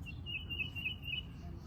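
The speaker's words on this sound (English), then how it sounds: "Listen to the birds singing." Faint bird chirps repeat softly over a low rumble of outdoor background noise in Yorktown, Virginia.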